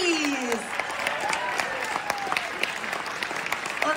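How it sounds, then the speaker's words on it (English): A comic con audience gives a standing ovation to the comedian John Cleese, with sustained, dense applause filling the hall at an even level and scattered cheers and whistles rising from the crowd. "please show your appreciation. Yes, standing ovation for the legend that is John Cleese."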